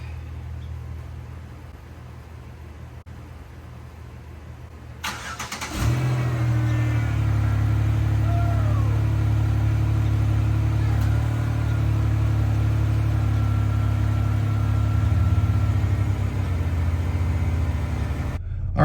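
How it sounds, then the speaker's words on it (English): A repaired car called Apollo cranks and fires up after several quiet seconds, then settles into a loud, steady running idle close by that continues to the end, with no talking over it. "it was finally time to try and start the car."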